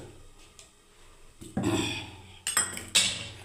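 A metal lid set onto a cooking pot while oats are being made, with a few clattering metallic clanks and scrapes that come close together, fairly near and moderately loud, and no talking.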